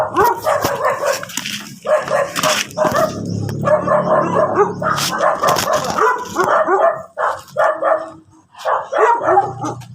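A riled Belgian Malinois barks repeatedly and loudly at close range in Bugallon, Pangasinan, with bursts of sharp barks broken by whines and yips during a neutering session.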